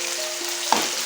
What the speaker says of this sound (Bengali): এবার এতে আমি এই যে ম্যারিনেট করে রাখা যে সয়াবিনগুলো সেগুলো একটু একটু করে ছাড়বো।